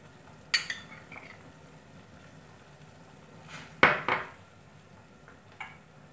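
Utensil clinks and scrapes against a pot while fish soup is seasoned with tamarind water, a few sharp metallic knocks spaced apart over a quiet background.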